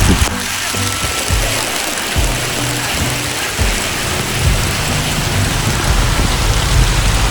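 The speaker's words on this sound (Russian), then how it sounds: "дождь начинается, надо прятаться" Rain begins falling outdoors on a trip to Cat Ba Island under a storm warning, giving a steady loud hiss with low rumbles and knocks that build through the stretch.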